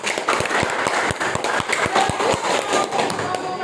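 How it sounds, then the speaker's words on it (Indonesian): Classroom applause for a student in a Year 8 civics lesson, dense clapping with several sharper thumps standing out in a steady burst, with voices faintly mixed in. "tepuk tangan buat Elisa"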